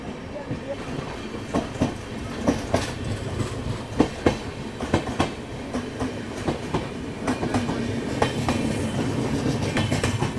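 The Kathgodam Shatabdi Express rolls along the rails just past a bridge, its wheels beating a steady clickety-clack with repeated sharp joint knocks over a continuous rumble, close and loud, with occasional voices in the carriage.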